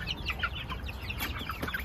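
Crested and Polish chickens in a fresh hatch of hens and a few roosters cluck and murmur close by, a steady busy chatter of several birds overlapping without pause.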